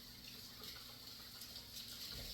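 Lettuce is rinsed under a running kitchen tap, a soft, steady stream of water splashing faintly and continuously at close range with no talking.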